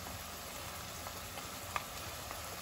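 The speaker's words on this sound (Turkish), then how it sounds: "kokusu çıkana kadar birlikte kavuruyorum" Tomato paste sautés with chicken and vegetables in a pan for a chicken and pea dish, a faint, steady sizzle with a small tap or two and no voices.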